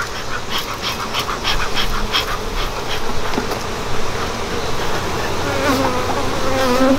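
Dense, steady buzzing of many honeybees around an open hive during an inspection, with returning foragers swarming close by and a continuous hum filling the whole stretch.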